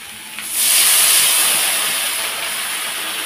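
Water poured into a hot pan of fried okra seasoned with turmeric sets off a sudden loud, steady sizzling hiss after a short quiet start, then slowly eases while staying strong.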